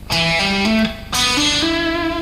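Electric guitar plays a fast ascending three-note-per-string pentatonic run in E with wide fretting stretches, clean sustained notes stepping upward in two quick phrases, close and alone.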